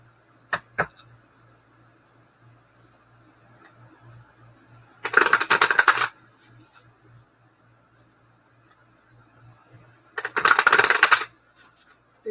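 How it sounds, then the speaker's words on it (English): Playing cards being shuffled during a live card reading: two bursts of dense riffling, each about a second long and spaced several seconds apart, plus a couple of faint clicks at the start, over a low steady hum. "let me shuffle a little more."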